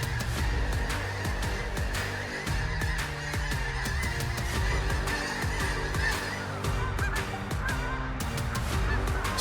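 A large flock of wild geese honks nonstop, a dense, loud overlapping chorus of calls with sharp repeated cries throughout.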